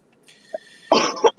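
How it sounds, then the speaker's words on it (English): A person in a garage gives a few short coughs close to the microphone, a quick burst followed by two more sharp coughs, with light throat-clearing before them. "Cough into your elbow."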